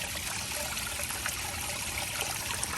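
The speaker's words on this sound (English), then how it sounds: "as this is pouring fresh water in, the nasty water is draining right there" Fresh water pours steadily into a backyard duck pond while dirty water drains out, a constant close trickling rush with no pauses.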